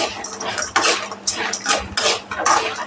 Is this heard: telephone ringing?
no